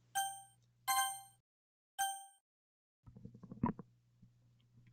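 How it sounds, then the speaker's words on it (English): Monika After Story desktop notification chime from the Doki Doki Literature Club mod: three clear bell-like dings in quick succession, then a softer cluster of tones, quiet and isolated with no talk. "that's Monica's notification sound"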